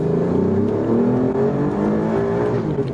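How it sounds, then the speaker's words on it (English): A 2019 Alfa Romeo Giulia Quadrifoglio accelerating hard, its engine tone climbing steadily in a loud, continuous pull heard close from inside the car, with no talking. "Let me do a quick acceleration here again."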